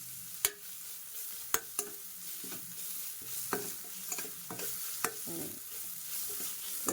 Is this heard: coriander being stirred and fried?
yes